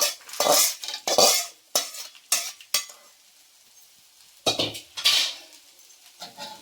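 Lentils go into a pan of spices and get stirred with a metal spoon, making a series of loud, close scraping strokes and clinks in uneven bursts with short quiet gaps between them.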